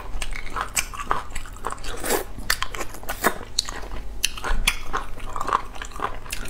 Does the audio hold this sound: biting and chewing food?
yes